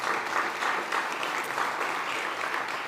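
Steady round of applause from a conference audience at a food summit, dense and continuous clapping throughout.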